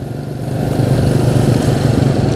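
A motorcycle ridden slowly along a main road in Tasikmalaya gives a steady low engine drone that swells in the first half second, then holds, close and loud, with no talk.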